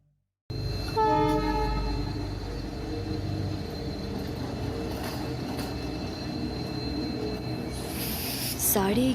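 A train rolls into a deserted station at night with a steady heavy rumble, long sustained horn tones near the start, and a rising squeal and burst of noise near the end as it comes to a stop.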